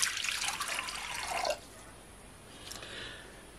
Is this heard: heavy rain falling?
no